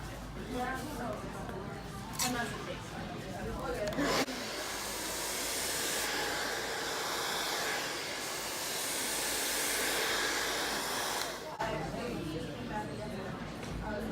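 A hair dryer fitted with a nozzle blows a steady, loud rush of air during round brush styling, continuing for several seconds between stretches where a person talks.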